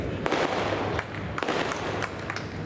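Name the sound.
firecrackers bursting at a welcome ceremony in Sangola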